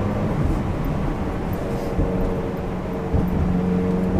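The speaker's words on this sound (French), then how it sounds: "quand on va rétrograder, ça va être quelque chose. Comme ça, on entend bien le moteur." A Ferrari 360 Challenge Stradale with a reprogrammed F1 gearbox drives along, its engine a continuous loud drone whose pitch shifts slightly as it downshifts, with no talking over it.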